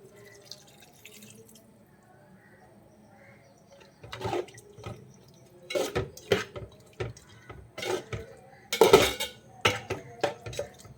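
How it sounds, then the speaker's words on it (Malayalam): Thick first coconut milk goes into a pot of mutton kurma, heard as wet pouring and splashing with clinks of a pan and spoon, starting after a quiet stretch and growing louder in short bursts. "ഇനി ഇതേ ഈ 1-ാം പാല് ചേർത്ത് കൊടുക്കാം"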